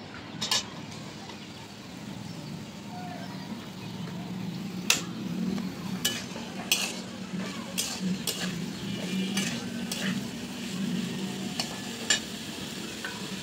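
Boiled meat and mixed pre-boiled vegetables are stir-fried in a pan, a soft steady sizzle under repeated scraping and clinking of a spoon against the pan, fairly quiet and close.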